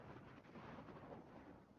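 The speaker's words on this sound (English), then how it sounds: "Listen to the wind." Wind buffets a referee's microphone at an outdoor high school sports championship in South Jersey, a faint, low, steady rumble with no voices.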